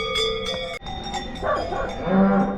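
Herding dogs bark while pushing a grazing cow into its shelter on an Alpine farm in the Aosta Valley, Italy; a few sharp, close barks come in quick succession, with lower animal sounds behind them.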